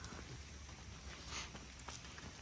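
Light rain patters steadily and very faintly on the surroundings during a morning walk with a dog, a soft, even, distant-sounding hiss with no voices.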